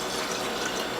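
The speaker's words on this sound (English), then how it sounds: "And we'll put this into some bottles. I'll fill this from the back side so the camera can get a good look." Sunflower and dill vegetable juice pours from a juicer into bottles, a steady close liquid stream with a filling splash running throughout, with no talking.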